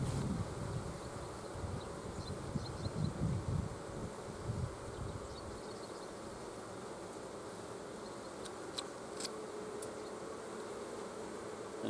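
Honeybees swarm around an opened hive with comb built on the top cover, making a continuous soft buzzing hum that is louder early, then settles into a faint steady drone with a few sharp clicks.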